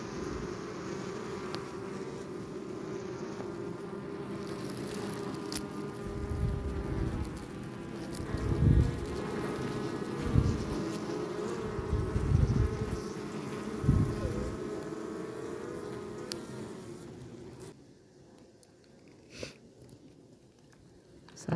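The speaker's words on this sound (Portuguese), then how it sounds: "Aqui é a abelha diretamente do mato, pessoal. Abelha silvestre." Wild bees buzz steadily at a nest out in the bush, a dense insect drone close by with louder low thumps and rustles mid-way, fading to a quieter hum near the end.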